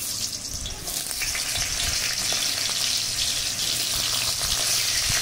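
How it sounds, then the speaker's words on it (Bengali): Chopped raw mango frying in hot oil left over from frying pointed gourd, a steady loud sizzle filling the whole clip with faint clinks of stirring and no talk. "এই পটল ভাজার তেলে কেটে রাখা আম ভেজে নেব।"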